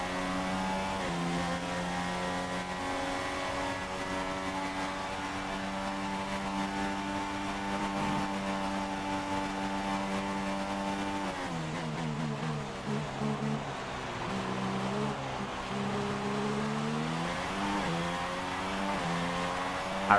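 Simulated Formula 1 engine from F1 2016 holding a loud, steady high-pitched whine, dropping and wavering partway through as the car lifts and revs again while running in the slipstream of a Sauber.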